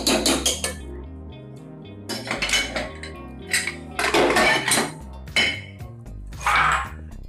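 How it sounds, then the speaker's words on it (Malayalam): Cooked lentils are mashed in a pot, a series of sharp metallic clanks and scrapes of a utensil against the vessel, coming in irregular bursts with short pauses between, loud and close. "നമുക്ക് പരിപ്പൊന്ന് ചെറുതായിട്ടൊന്ന് ഉടച്ചു തുറക്കാം."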